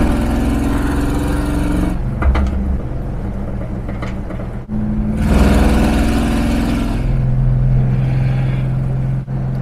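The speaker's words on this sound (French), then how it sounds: "J'ai conduit une Superbird 1970 en 440." 1970 Plymouth Superbird with a 440 V8 on the road, a loud, close engine drone rising and falling with gear changes and revs throughout, no talk.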